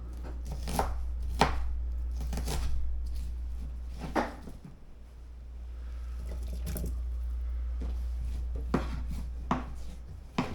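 A knife chopping onions on a cutting board for a pork butt stew, several sharp irregular chops close by over a steady low hum, some separated by longer pauses, with no speech.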